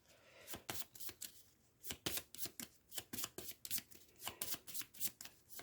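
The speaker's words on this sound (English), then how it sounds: "I should have shuffled these at the beginning of the game." Cards for the Final Girl board game are riffled and shuffled repeatedly in quick crisp bursts, close up and fairly quiet, with no talking.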